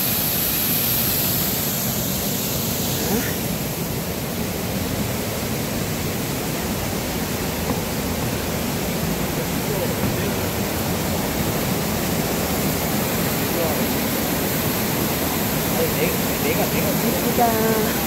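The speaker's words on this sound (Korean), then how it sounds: "폭포 소리 정말 시원해요." Yongchu waterfall at Juwangsan in Cheongsong roars with a steady, broadband rush of falling water, loud and constant throughout with no breaks.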